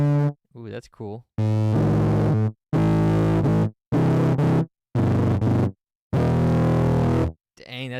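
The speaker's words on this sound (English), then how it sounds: "Dang, that's so much fuzz and distortion." Thick, buzzing fuzz-distorted synth guitar notes from a Boss GM-800 played in separate sustained bursts with short silences between, harsh and guitar-like in tone.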